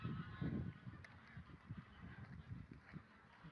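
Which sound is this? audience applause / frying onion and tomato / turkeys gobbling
turkeys gobbling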